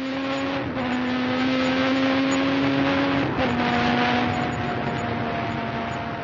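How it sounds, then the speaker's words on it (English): A Formula One car driven by Warwick accelerates flat out at Imola toward Tamburello, nearing 190 mph. A loud, continuous engine note climbs steadily, with two quick gear changes that briefly drop the pitch. "Warwick accelerates hard, approaching 190 miles an hour by the time he turns into Tamburello"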